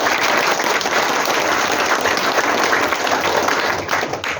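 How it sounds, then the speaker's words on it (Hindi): A hall full of people giving loud, sustained applause for trainees at a certificate and tool-kit ceremony, dense clapping close and even throughout, tapering slightly at the end. "सभी प्रशिक्षार्थियों के लिए एक बार जोरदार ताली हम सब बजाएंगे"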